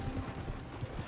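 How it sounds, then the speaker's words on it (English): Horse hooves pounding along a dirt trail in Red Dead Redemption 2, a steady galloping rumble under a low, muffled game soundscape. "Horses won't go this fast for long."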